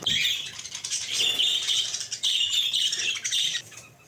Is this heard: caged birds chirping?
yes